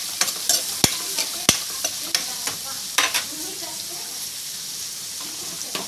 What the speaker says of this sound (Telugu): ఆనియన్స్ నూనెలో బాగా మగ్గిపోవాలండి